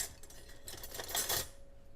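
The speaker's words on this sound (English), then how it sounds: "you can just mix that up really good with the wire whisk" A wire whisk mixes baking powder and sugar in a bowl, giving a quiet, rapid metallic clinking and scraping for about two seconds, with no one speaking.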